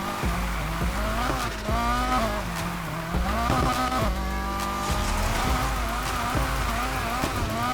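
A Nissan 180SX drifts in second gear in Need For Speed Heat. The engine whines and rises and falls with gear changes, and the tyres squeal steadily and loudly under it.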